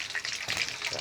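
Chicken pieces frying in hot oil give a steady, dense sizzle and crackle, close and loud, continuous through the whole short moment.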